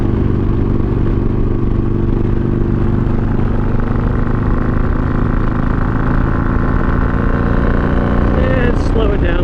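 A Harley-Davidson Iron 883 motorcycle engine drones steadily and loudly as it eases off from full throttle in fifth gear, with continuous wind and road roar throughout and a brief higher whine near the end.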